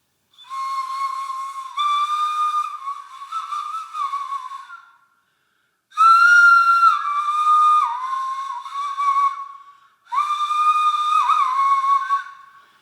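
A breathy, whistle-like tone from a pūpū, a Māori shell instrument, plays softly in three long phrases, with gliding pitch and short pauses between them.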